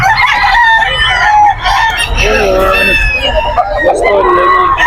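Chickens and roosters crow and cluck loudly and continuously at a predawn poultry market in Bocaue, Bulacan, with overlapping calls from many birds and a crowd murmuring beneath them.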